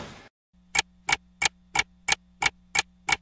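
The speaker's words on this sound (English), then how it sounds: "you hear the clock ticking. Tick, tock." A clock ticks in a steady, even rhythm of about three beats per second, eight crisp ticks over a low constant hum after a brief burst of noise at the start.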